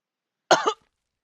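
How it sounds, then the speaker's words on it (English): A character in the video game Hakuoki: Edo Blossoms gives one short, harsh cough, close and loud, alone against silence. "There were times when I heard Okita hacking his lungs up as he coughed"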